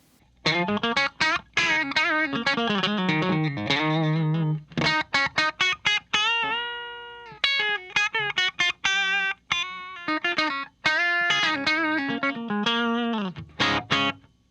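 A clean, dry Telecaster electric guitar on the bridge pickup plays bright single-note lines and chords, sharp twangy attacks with short pauses between phrases, no talking.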